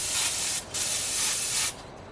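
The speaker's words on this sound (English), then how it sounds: "let's see if this airbrush can actually spray." Close airbrush spraying black paint hisses in two steady bursts, with a short break between them, then cuts off to near silence.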